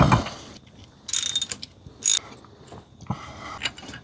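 Ratchet wrench with a 14 mm socket being turned while working on a Ford Falcon cam tensioner during an oil leak fix, giving short bursts of bright clicking ratchet strokes, close and fairly loud, with pauses between.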